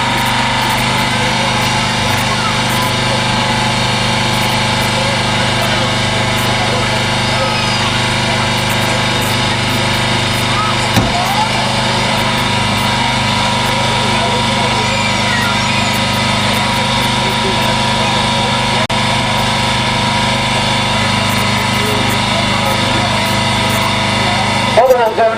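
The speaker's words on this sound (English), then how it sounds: "So we're now cutting through the B post on this side of the vehicle." Fire crew hydraulic rescue tool cutting through the B post of a car at a fire station open day, a steady loud mechanical drone with engine hum and intermittent metallic crunches throughout.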